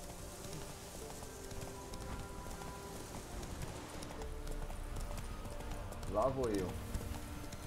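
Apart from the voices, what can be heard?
horse hooves while riding in video game The Witcher 3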